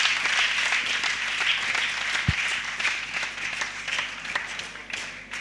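A church youth congregation applauds in praise during a worship gathering, with sustained, fairly loud clapping that rolls on for several seconds and a few voices mixed in.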